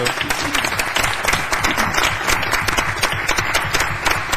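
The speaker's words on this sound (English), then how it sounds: "we'd like to give you one more round of applause" Steady applause from a crowd at a school district board meeting, many hands clapping densely and evenly for several seconds with no voices standing out.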